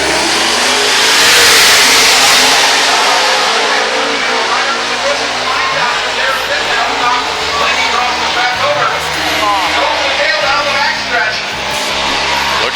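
Race cars running a qualifying heat for the A main on a dirt oval at Oskaloosa, Iowa, engines roaring and revving in a loud continuous blare under an announcer's voice.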